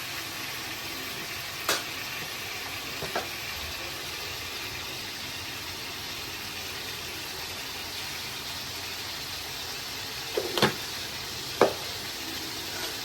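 Brinjal frying in oil with turmeric powder, a soft steady sizzle throughout with a few brief utensil clinks and scrapes near the start and toward the end.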